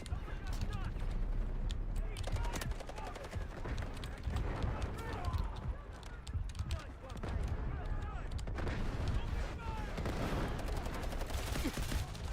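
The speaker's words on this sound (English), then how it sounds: "Artillery barrage incoming." Artillery barrage and gunfire rage in the war game Delta Force, a dense, continuous battle roar of overlapping blasts and shots that stays loud throughout, with voices speaking over it.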